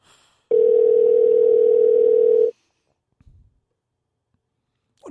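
A telephone call tone: one steady, loud electronic beep lasting about two seconds, followed by near silence with a faint click.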